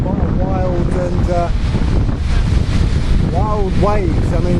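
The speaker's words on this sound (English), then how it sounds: "wild waves. I mean, I thought that the Mediterranean was gonna be quite calm." Rough Mediterranean Sea whipped by wind, a steady loud roar of surf and gusts buffeting the microphone at sea, with brief tonal whistles rising through the wash.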